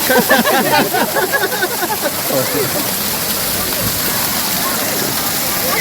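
Steady roar of the Kodiveri waterfall at Gobichettipalayam, a broad rushing wash of falling water, loud and constant, with people talking over it at the start.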